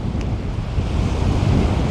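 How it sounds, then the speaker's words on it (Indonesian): Heavy surf, two to three metres high, breaking on a beach in the Kei Islands, Indonesia, during the rough season. It makes a loud, continuous roar, with wind buffeting the microphone. "Garis-garis pantai itu jadi putih karena pecahan ombak."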